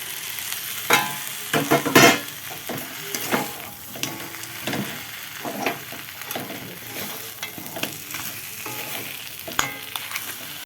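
Crab and potatoes sizzle in a pan with bay leaves as they are stirred and tossed, with loud scraping clatters early on and then steady frying crackle up close, without talking.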